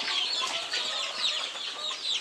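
Black joper chickens on a farm cluck and murmur close by, a busy overlapping chorus of short clucks and calls from several birds.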